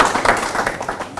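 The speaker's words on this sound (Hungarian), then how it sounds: "egy nagy tapsot hadd kérek szépen" Audience applause at a sports event, a brief burst of dense clapping throughout.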